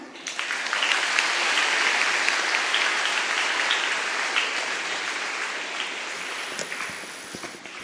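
Audience at a school investiture ceremony breaks into sustained applause, a dense wash of many hands clapping steadily for several seconds before tapering off.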